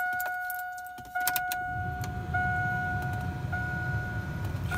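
Replaced blower motor in a 2001 Chevy Silverado running with the ignition on, a steady low whir starting partway through under a faint high electronic chime and a few small clicks, close and fairly quiet.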